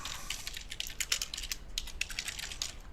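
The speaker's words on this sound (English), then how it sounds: "So of course I can type in his business here." Rapid typing on a computer keyboard, a steady stream of light, close key clicks with brief uneven pauses, heard alone.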